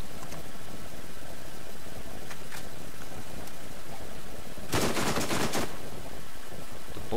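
A burst of rapid SMG fire in the Borderlands video game rattles out loud and close for under a second, set against constant game background noise, with a few fainter earlier shots.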